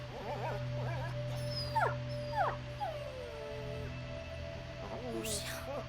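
Lion, a dog in the video game A Plague Tale: Innocence, lets out a series of short rising whimpers and yelps over a steady low game hum, with a brief higher yip near the end.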